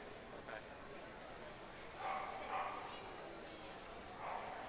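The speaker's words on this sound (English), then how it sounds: "Now our judge, Dorothy Collier, gets to have another look here at all the beautiful dogs in her working group" Dogs of the working group at a dog show give a few faint, distant barks and yips beneath an announcer's steady commentary.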